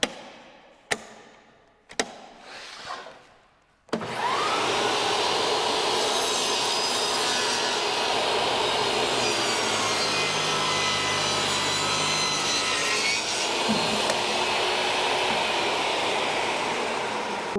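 Table saw notching wood against an auxiliary fence: a few sharp knocks, then the saw spins up into a loud, steady whining cut that drones on for over ten seconds, close and alone.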